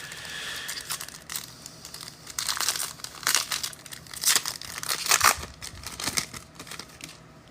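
Foil wrapper of a Phoenix football card pack torn and crinkled open by hand, a series of close, bursty crackling rips over several seconds, alone without talk.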